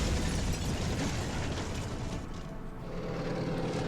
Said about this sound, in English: that's a bomber in the northeast, attacking my artillery, doing 4 damage to it